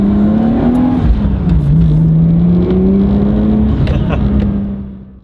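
A Toyota JZX100 Chaser drives by, its engine note holding steady then dipping and rising as it passes close and loud, fading out at the end.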